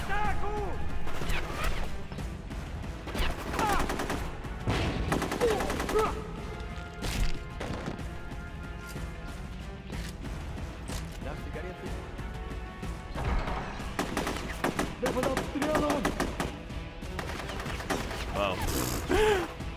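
Gunfire in the Rogue Warrior video game, with shots slamming into a wall: loud, repeated bursts and heavy impact thuds continue throughout, broken by short lulls, while someone talks over the shooting.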